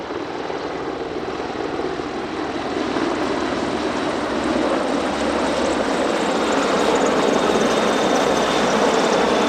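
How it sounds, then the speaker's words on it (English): An HH-101A Caesar combat search and rescue helicopter flying at an Italian Air Force centenary airshow, a steady broadband rotor and engine roar that holds constant and swells slightly louder toward the end, with no voices. "And the HH-101A Caesar, used for combat search and rescue."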